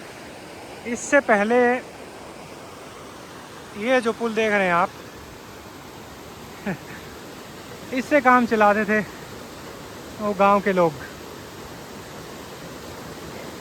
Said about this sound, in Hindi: ये रूपिन नदी, कितना साफ सुथरा पानी है।